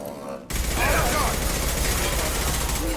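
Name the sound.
gunfire in Mass Effect 2 video game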